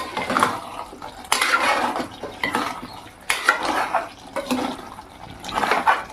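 Mutton curry stirred in a pot on a stove, a spoon scraping and sloshing through thick gravy in several uneven bursts of wet clatter, close and moderately loud with no talking.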